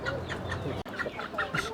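Egg-laying hens given to mothers for their children's nutrition cluck and call in a lively, continuous chorus at close range, with several birds overlapping and no speech over them.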